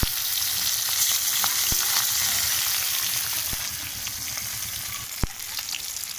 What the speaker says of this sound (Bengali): আমার তেলটা গরম হয়ে গেছে, আমি মাছ এক এক করে ছাড়বো,